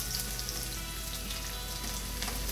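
Garlic sizzles steadily in hot oil in a kadai over a high flame, cooked for Indo-Chinese veg fried rice; a close, dense, continuous frying hiss with no pauses and no talk.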